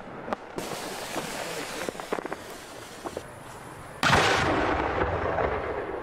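Fireworks going off at a display, several sharp cracks and pops followed by a loud, sustained booming burst that rumbles and crackles on, fairly near and dominant.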